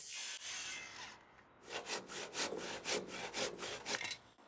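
A handsaw cuts an angled end on a wooden beam for a catio build, with a soft rasp at first and then about a dozen quick, even back-and-forth strokes, close up and with no voices.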